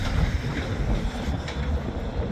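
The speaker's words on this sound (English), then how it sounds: "Might not be able to hear me too well because it's kind of windy today" Wind blows outdoors on a breezy day and buffets the microphone with a rough, rumbling roar that goes on without a break. Nobody speaks.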